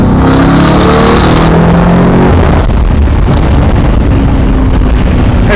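Loud, sustained exhaust roar from a tuned 800 hp Lamborghini Urus V8 SUV with downpipe and transmission tune, running on 91 pump fuel, heard close outdoors with a rising rev, then a brief drop and a rough, rumbling continuation.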